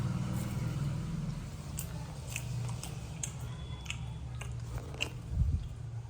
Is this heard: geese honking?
no